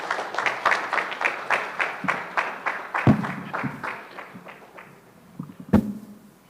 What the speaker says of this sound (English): Let's give His Excellency the PCS a round of applause.